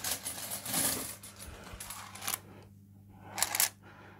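10p coins clatter and drop into a JPM System 80 fruit machine in a few quick bursts, with metallic jingles separated by short quiet gaps, close and fairly soft.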